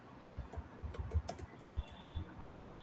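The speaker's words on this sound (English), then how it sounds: "if I type some organization" Keys clack on a computer keyboard in a short, uneven burst of close taps, typing a website name, with no voices.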